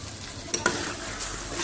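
Taro root fries in ghee with a soft, steady sizzle and a couple of brief stirring scrapes, close and fairly quiet.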